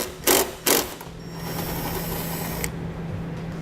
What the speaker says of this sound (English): Also remove 10mm bolt that's right up here.